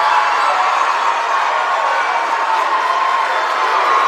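Basketball fans on their feet cheering in the stands at a high school game, a loud, sustained crowd roar with shouts and clapping that stays steady from start to finish.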